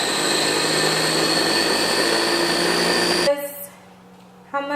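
Food processor whirring loudly and steadily as it blends walnuts, garlic cloves and olive oil into pesto, then cutting off abruptly near the end, leaving a quieter kitchen with a brief return of noise.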